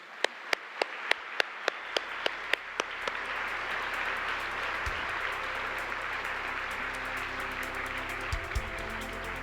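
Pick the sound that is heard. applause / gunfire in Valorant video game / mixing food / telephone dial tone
applause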